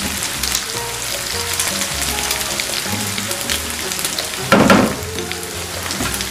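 Mutton sizzling and frying in a pan with crushed chilli and whole coriander, a steady close crackle that swells into a louder burst as the meat is turned.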